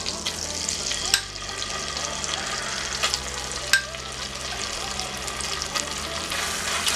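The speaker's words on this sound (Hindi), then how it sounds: "और इसे भून लेंगे 1 मिनट के लिए।" Ginger garlic paste fries in hot ghee and butter for mutton namkeen, giving a steady, close sizzle with soft stirring scrapes and a few sharper clinks throughout.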